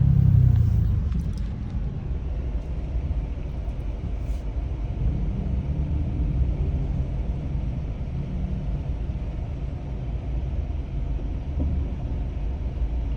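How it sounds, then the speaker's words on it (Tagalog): Inside a moving car in traffic, a low, steady road rumble and engine drone fill the cabin without a break, with no voices over it. "Point of view, traffic."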